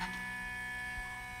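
An embroidery machine sounds its completion signal after finishing stitching, a steady, faint electronic tone held for about a second and a half with a soft tick underneath.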